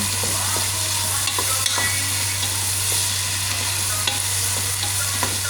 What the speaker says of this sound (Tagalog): Lagay na natin ang ating sili.